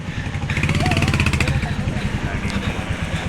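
A car backs up on a narrow street in Old Manali, its engine rumbling steadily close by as people talk over it.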